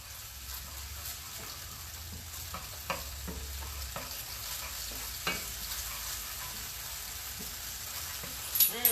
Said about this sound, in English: And we just want that to get a good little sizzle.